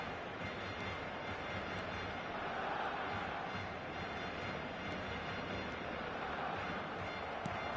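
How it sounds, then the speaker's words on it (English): Stadium crowd noise at a Barcelona football match, a steady, dense roar of many voices that swells slightly midway and holds without pause, with no distinct commentary over it. "the crowd are reacting to that now"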